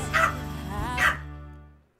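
A dog gives two quick barks that trail into a whimper, close and fairly loud against a steady low hum.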